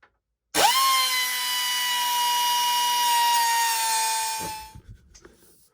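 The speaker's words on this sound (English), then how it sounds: "I just need to finish cutting through this bolt." A power tool cuts through a metal bolt at an awkward angle, a loud, steady high-pitched whine running about four seconds before winding down, with a few faint clunks after it stops.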